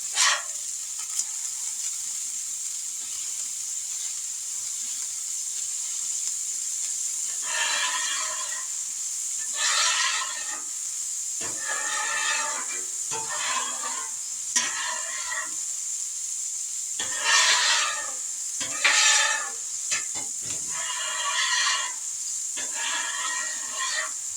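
Burgers sizzle on a Blackstone griddle with a constant bright hiss, broken by recurring bursts of louder crackling and spitting, heard close up with no talking.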